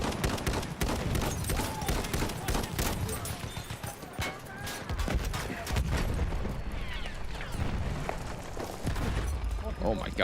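Dense, continuous battlefield din from Battlefield 1: rapid gunfire and repeated explosions pile up without pause, loud and chaotic, with bursts of shooting and booming blasts throughout.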